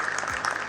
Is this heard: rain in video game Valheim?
no